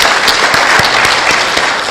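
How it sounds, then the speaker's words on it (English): Brief, loud burst of audience applause for European Union ambassadors at a Kenyan government launch event, dense clapping with a few sharper individual claps standing out. "Could we please give them a round of applause?"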